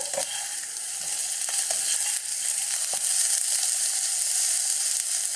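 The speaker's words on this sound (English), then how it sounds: "Let's just saute these and get some of that beautiful garlic ginger on there and that sesame seed oil." Mushrooms sauté in sesame oil with garlic and ginger over fairly low heat, giving a dense, steady close sizzle with occasional faint stirring taps.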